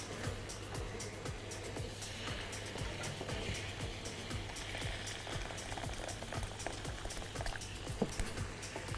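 Water boils in a pot for basmati rice, a steady dense bubbling hiss that runs continuously at low level with no talk over it.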